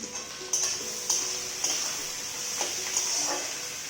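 Onions frying in a kadai give a steady broadband sizzle, with a few clinks and scrapes of stirring at roughly half-second intervals, close and fairly quiet, with no talk.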